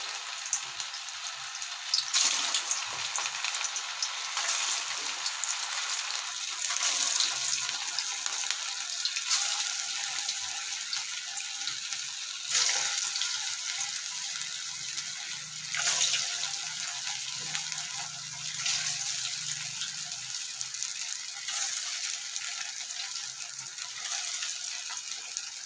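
Leftover-rice bonda fritters deep fry continuously in hot oil with a dense, steady hiss and crackle, close and moderately loud, with no speech.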